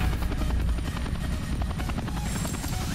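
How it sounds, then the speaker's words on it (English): A helicopter in the video game Rainbow Six Siege, a loud continuous rotor thump and engine drone filling the whole stretch, close and steady with no talk over it. "You're gonna see me going down from the chopper."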